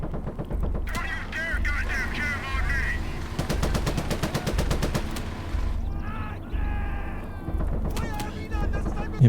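Rapid bursts of MG42 machine gun fire in the Gates of Hell World War II strategy game, set in the Utah Beach assault, repeating in loud regular volleys with battle noise and scattered game voices between them.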